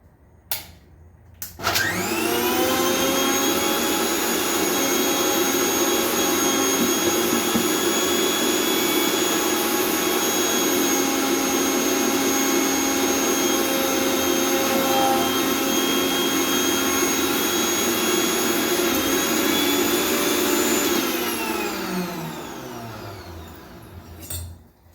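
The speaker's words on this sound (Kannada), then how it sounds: "ನಾನಿವಾಗ ಗ್ರೈಂಡ್ ಮಾಡ್ಕೊತಾ ಇದ್ದೀನಿ." A kitchen mixer grinder runs continuously on ingredients for avarekalu sambar, a loud steady motor whine with layered high harmonics, starting abruptly and spinning down toward the end, with no talk over it.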